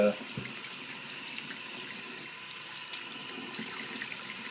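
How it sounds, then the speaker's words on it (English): Steady running water rinsing the sole of a 2001 Air Jordan XI Retro sneaker, a soft continuous hiss from a faucet, quiet and even with a small clunk near the end. "run the shoe underwater"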